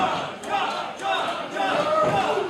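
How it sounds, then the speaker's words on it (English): A wrestling crowd cheers for a wrestler during a televised match, a steady wash of shouting voices with swells and brief peaks, fairly loud throughout. "Crowd cheering on Josh Galvan."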